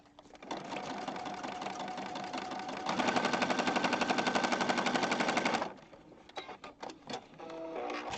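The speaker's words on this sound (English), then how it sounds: "over here to the sewing machine with a really big running stitch and stitch right down the center of this" Sewing machine running a big running stitch down the center of a paper junk journal, a loud rapid rattling burst that speeds up midway, then stops and gives way to scattered handling clicks and rustles.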